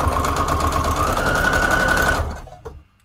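A sewing machine runs a fast zigzag stitch on a junk journal tag, buzzing continuously and close for about two seconds before stopping abruptly, followed by a couple of faint clicks.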